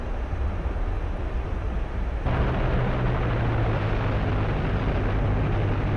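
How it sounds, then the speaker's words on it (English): In a VR flight simulator game, an Su-25T deploys its drag chute, and the roaring engine and wind noise step up suddenly into a louder, fuller rumble that holds steady to the end. "And I am going to pop the chute."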